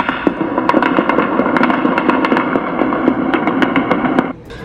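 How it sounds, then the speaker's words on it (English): Rapid, repeated sharp bangs of gunfire, about fifteen rounds, ring out in a continuous volley over a harsh, noisy background, then abruptly stop. "This one is the shots fired that came in that advised it was 15 rounds."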